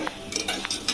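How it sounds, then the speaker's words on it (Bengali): Rice being stirred into a spiced pan on a home kitchen stove gives short, repeated scraping and clinking strokes, close by and fairly quiet, with no talk over them. "এবার এটার মধ্যে দেখো চালটা দিয়ে দিল মা, একটু নেড়ে নেবে"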